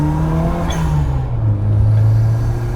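A classic Mini Cooper fitted with a JET turbo kit accelerates hard, its engine note climbing as a loud, close, steady drone that rises in pitch and dips briefly as the gear changes.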